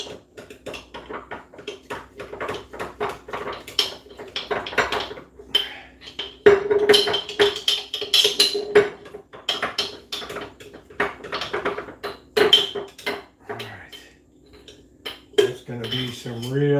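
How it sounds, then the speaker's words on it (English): A utensil stirs a yeast mixture in a kitchen bowl, scraping and clinking against the sides in quick, uneven strokes, fairly loud and close, with a few sharper taps along the way. "Give that a good old stir."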